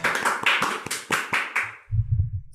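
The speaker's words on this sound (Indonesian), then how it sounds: "Tepuk tangan dulu dong." A few people in a podcast studio clap hands in a quick, close burst of about a dozen sharp claps, then stop as a low voice begins.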